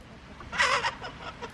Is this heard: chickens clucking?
yes